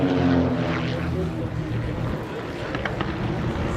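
Marchetti SF-260 propeller planes of the Red Devils team fly in formation overhead, making a loud, steady engine drone with a humming propeller buzz that swells slightly at the start.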